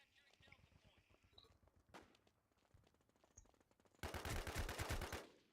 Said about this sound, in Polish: Tam coś strzelają.